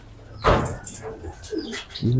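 Soft pigeon cooing and a few short bird calls close by in a racing pigeon loft, with a brief bump or knock partway through and a low murmur in the background.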